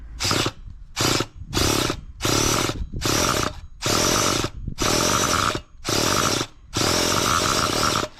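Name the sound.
nitro RC engine being cranked, trying to fire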